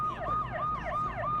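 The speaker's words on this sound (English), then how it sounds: "Jeez, that's a loud ambulance." An ambulance siren in the video game Watch Dogs wails in a fast, repeating up-and-down pattern, loud and close, cycling about four times without any voices.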